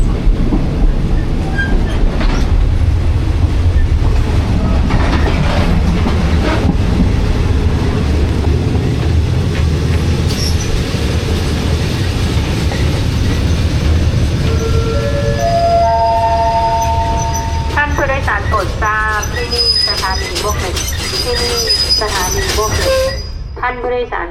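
A passenger train running between Bangkok and Muak Lek in Thailand gives a loud, steady rumble and rattle of carriages, with squealing wheel tones rising near the end and voices faintly underneath.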